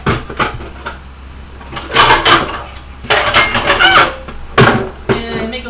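Pots and pans clatter loudly as someone rummages through them in a home kitchen looking for a lid, with several metallic crashing bursts separated by quieter shuffling.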